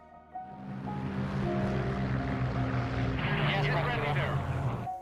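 Propeller-driven World War II fighter planes, Polish Squadron 303 flying in formation, drone steadily and swell louder toward the end under a voice speaking.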